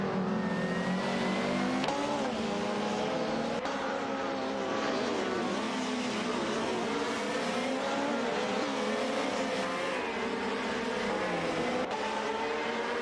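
Race cars in an AI-driven racing video game scream past in a dense, continuous blend of high-revving engines, pitch rising and falling as they accelerate and overtake, loud and steady throughout.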